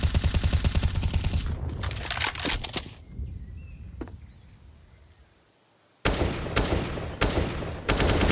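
Rapid bursts of automatic gunfire from Counter-Strike in an ESL Pro League match, firing down a hallway, loud rattling volleys at the start and again near the end with a quieter gap between.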